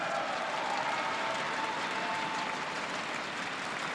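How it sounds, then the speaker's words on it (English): Dense, steady applause and cheering from a large arena crowd of esports fans at IEM Katowice 2018, a StarCraft 2 semifinal, holding loud and continuous throughout with no letup. "in front of all these fans that are cheering so loudly and passionately"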